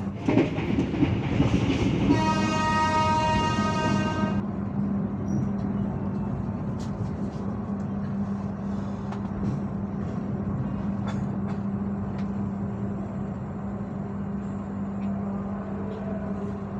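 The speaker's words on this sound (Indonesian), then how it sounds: "KA Bogowonto kembali diberangkatkan dari stasiun Bekasi jam 22:14" The KA Bogowonto economy-class passenger train departs Bekasi station at night, a steady rumbling roll with a loud two-second horn blast early on, then continuous rail noise and faint clatter heard from inside.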